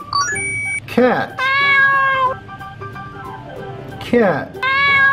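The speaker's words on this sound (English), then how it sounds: "Cat." A toy cat gives two loud, drawn-out meows a few seconds apart, close and clear, each followed by a sustained electronic tone in a quiet indoor setting.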